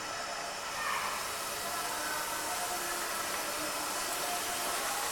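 Chicken lemon boti frying in hot oil, a steady, dense sizzling hiss that stays loud and even throughout, close up with no pauses.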